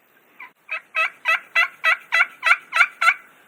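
A hand-operated turkey call mimics a hen turkey with a rhythmic series of about nine raspy, evenly spaced yelps, each note sharp and clear, building slightly in loudness, heard up close in quiet surroundings without speech.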